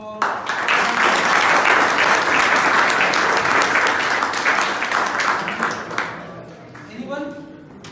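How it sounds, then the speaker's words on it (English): Students in a construction project management class give a loud, sustained round of applause that fades near the end, with a few voices chatting as it dies down. "So, big round of applause"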